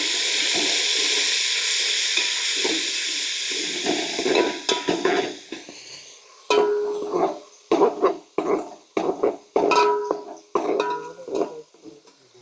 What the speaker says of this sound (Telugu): గార్లిక్ పేస్ట్ మంచిగా వేగిన తర్వాత చికెన్ వేసుకోవాలి